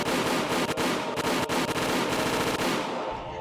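Automatic weapons gunfire from a Higurashi visual novel scene, a loud, dense, continuous burst of rapid shots with sharp cracks standing out, fading slightly at the end, with no voices.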